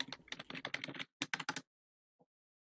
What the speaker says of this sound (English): Here, I can try typing it out.